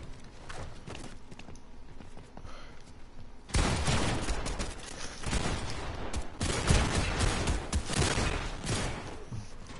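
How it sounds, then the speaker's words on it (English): Close, heavy gunfire in rapid overlapping volleys, dense crackling bursts that surge after a quieter opening and keep going to the end, with little talking. "They're shooting at us"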